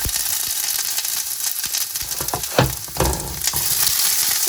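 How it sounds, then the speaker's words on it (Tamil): Loud, continuous crackling sizzle of garlic and ginger frying in hot oil, close up, with bursts of spattering and stirring scrapes throughout. "நான் அடுத்ததாக உள்ளி உள்ளியை வந்து அதோடு சேர்த்து பொறித்து விடுவேன்"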